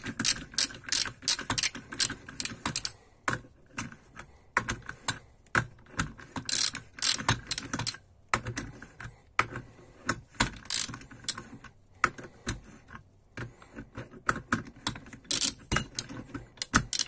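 A ratchet wrench tightens a nut with rapid clicking strokes in repeated bursts separated by brief pauses, close-up and crisp.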